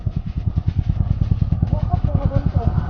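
Small underbone motorcycles, an XRM Fi and a Raider J Fi, rev their single-cylinder engines at a drag race in a rapid pulsing putter, loud and close, with voices faintly mixed in.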